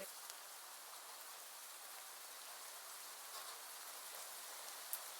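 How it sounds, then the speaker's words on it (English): Steady rain falls outdoors in a constant soft hiss of drops, fairly faint and even throughout, with one small sharp tick near the end and no voices. "in the middle of your walk, it starts to rain"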